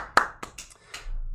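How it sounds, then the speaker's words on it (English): Applause at a school band senior night, heard here as a few sparse, sharp hand claps, near and fairly quiet, with no voices. "One round of applause, please, for Zoe McCarty."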